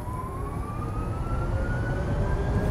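Synthetic e-motor drive sound from a 2023 Genesis GV60 Performance: a steady electronic whine that slowly rises in pitch with faint harmonics, over a constant low rumble of road and cabin noise.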